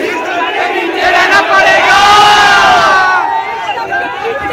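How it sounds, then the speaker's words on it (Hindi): A huge crowd of more than 20,000 fans at an Elvish Yadav meetup roars and shouts continuously, loud and close, the cheering swelling in the middle and then easing slightly. "लेकिन इतनी भीड़ है"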